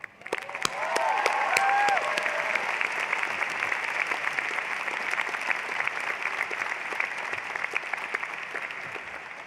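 Sustained applause from a commencement crowd at the University of Hawaiʻi at Mānoa welcoming speaker Janet Mock, beginning abruptly and holding steady with dense clapping and a few faint cheers.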